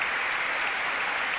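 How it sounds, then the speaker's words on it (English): A basketball crowd at a EuroLeague Women game applauds an injured player being helped off the court, producing dense, sustained clapping that stays loud and steady throughout. "that's a rapturous round of applause"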